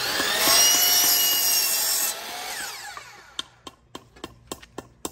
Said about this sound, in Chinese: 这还是锯子这个方便。